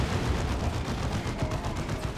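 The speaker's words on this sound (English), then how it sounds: "And they get hit by a plasma cannon." Plasma cannon fire in a 3v3 Dawn of War 2 match lands as a rapid, crackling barrage of weapon blasts, a continuous rattling roll of impacts at moderate-to-low volume with no talk over it.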